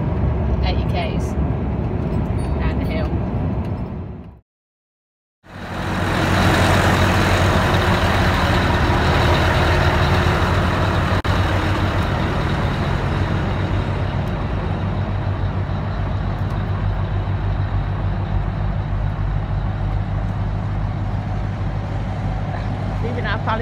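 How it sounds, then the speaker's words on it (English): Heavy truck engine braking to hold about 80 km/h, a steady loud low drone with continuous road rumble, broken by a brief gap of silence before the roar resumes. "But that's not using my brakes, that's just using the engine to slow it down"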